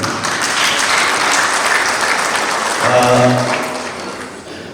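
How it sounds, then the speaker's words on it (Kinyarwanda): A wedding crowd at a Rwandan gusaba ceremony claps steadily in sustained, dense applause, loud and close, with a voice briefly rising over it before the clapping tapers off. "Mumumbere amashyi nawe."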